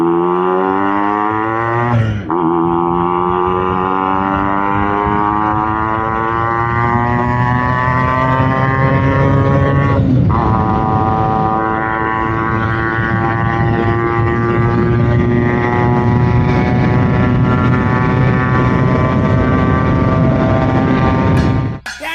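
A 2000 Yamaha RX 135 five-speed two-stroke motorcycle revs loudly during a ride, its buzzing note climbing steadily through gears with two brief drops at shifts, close and continuous.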